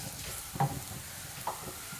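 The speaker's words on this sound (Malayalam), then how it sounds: "ഇനി നമുക്കിതിലേക്ക് ഒരു 1/2 ടീസ്പൂൺ മഞ്ഞൾപ്പൊടി ഇട്ട് കൊടുക്കാം നന്നായിട്ടൊന്ന് മിക്സ് ചെയ്ത് കൊടുക്കാം" Turmeric powder being stirred into onions and crushed chili frying in a pan for beetroot thoran, a low sizzle broken by two short scraping stir strokes.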